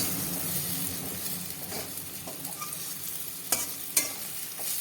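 Onion and cumin fry in hot oil with a continuous soft sizzle and crackle, and a couple of sharp clinks of a utensil near the end.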